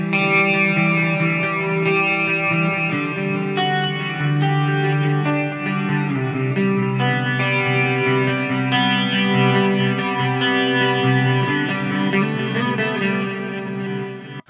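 Electric guitar played through a Qi Etherealizer pedal for lo-fi, math-rock style tones, heard as a recorded take played back: continuous, dense chorus-washed and slightly distorted chords with layered notes and sustained shimmer, steady and loud throughout, no talking.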